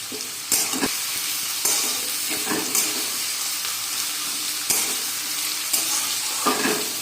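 Chopped bell peppers of three kinds stir-fried together for chicken chow mein: a steady close sizzle broken by repeated scraping spatula strokes against the pan every second or so.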